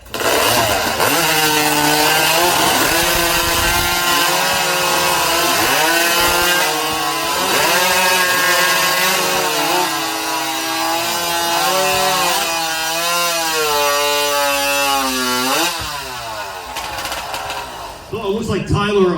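A chainsaw-style racing saw rips through timber during a woodchopping competition heat, a loud, sustained high-revving whine with rising and falling pitch that holds for most of the clip before cutting off near the end.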